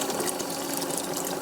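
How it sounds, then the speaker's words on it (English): A robotic feeder's outlet spout fills a bowl with water, a steady close gushing rush that runs unbroken throughout. "We hold it down, and that fills that bowl up with water and wash."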